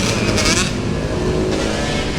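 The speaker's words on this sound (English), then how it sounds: "here's a guy riding a wheelie in downtown San Diego" A motorcycle revs hard close by as its rider pulls a wheelie through a downtown San Diego city street, a loud, steady engine roar lasting about two seconds.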